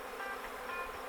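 Dense, steady buzzing of a crowd of honey bees close by during a spring beehive inspection at an apiary, a continuous hum with no talking.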